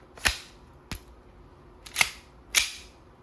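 A WE Hi-Capa 5.1 Type R gas blowback airsoft pistol fires steel BBs: four sharp, snappy cracks at uneven intervals, each short and crisp over a quiet background.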